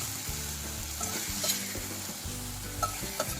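Onions and tomatoes sizzle steadily in a hot pan, close and even. A few light taps and scrapes of a spoon stirring break through near the end, and no voices are heard.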